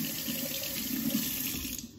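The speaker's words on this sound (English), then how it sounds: "you're gonna wanna rinse it under warm water so the shells start to soften up and it's easier to peel." Tap water runs steadily from a kitchen faucet into a sink as boiled eggs are rinsed under warm water before peeling, a continuous close splashing rush that cuts off abruptly near the end.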